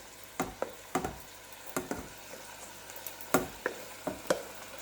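Rice goes into a frying pan of sizzling sausage, with a steady sizzle under a dozen or so sharp scraping and stirring knocks at an irregular pace, close by.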